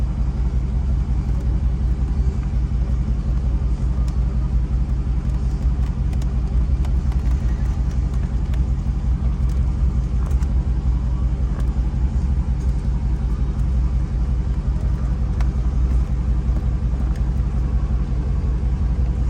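A Dodge Charger Scat Pack SRT 392 idles steadily from inside the car, with the air conditioning on, giving a constant low rumble that holds even and unbroken.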